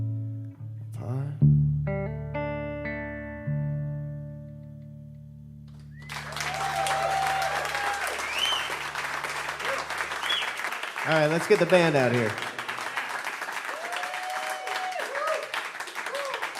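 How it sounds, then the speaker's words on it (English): Concert audience at a live band set claps and cheers after a man announces the band over sustained musical tones; the crowd noise swells at the halfway point and continues strongly, with whoops rising above it. "Ladies and gentlemen, keep that applause going."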